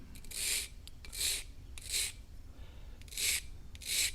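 A file rasping across a Zwickey Delta broadhead to sharpen it, five distinct bright scraping strokes in a steady rhythm with short pauses between, close and fairly quiet with no talking.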